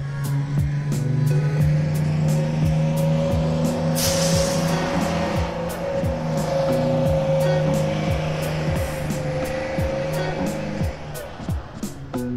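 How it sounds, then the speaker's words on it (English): Road traffic with a vehicle engine droning steadily throughout, a low constant hum with passing vehicle noise, loud and continuous over about twelve seconds. "Bus."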